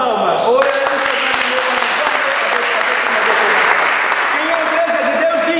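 A church congregation claps together in a steady, dense wash of applause, with a voice calling out over it at the start and again near the end.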